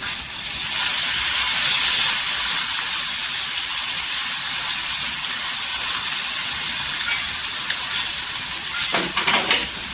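Loud, steady hiss of chillies sizzling in oil on a hot iron griddle, rising sharply at the start, with a few faint scrapes near the end.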